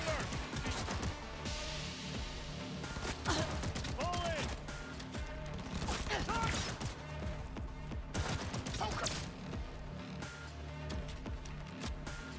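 Rifle fitted with a muzzle brake firing in Cyberpunk, loud rapid bursts of shots and crashing impacts across the scene, with a voice speaking in between.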